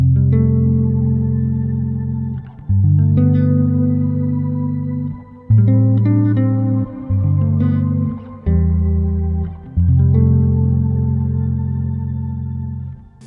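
Electric guitar played through a washed-out, modulated reverb pedal on a pedalboard: sustained chords swell and ring with lush chorus-like shimmer, each loud chord decaying before the next is struck, with no talking.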